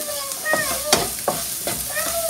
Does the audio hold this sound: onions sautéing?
yes